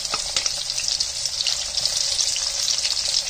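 Hing, bay leaf, garlic and onion fry in hot oil in a kadai, a steady bright sizzle close by with small crackling bursts throughout and no voices.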